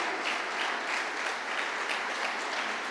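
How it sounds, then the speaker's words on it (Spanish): A church congregation applauds during a Spanish-language sermon, an even wash of clapping that holds steady for the whole three seconds. "dese un aplauso a usted mismo porque está acá, hermanos y hermanas, y déselo al que está a su lado."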